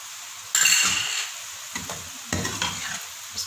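Fried minced meat being stirred with black pepper and cumin in a pan, with a few loud metal scrapes and clanks of a spoon over a soft sizzle, close by.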